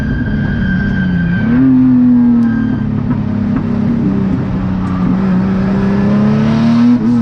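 Race car engine at Winton circuit holding a loud, steady high drone at close range, pitch dipping briefly then rising again as it accelerates, with a thin whine above.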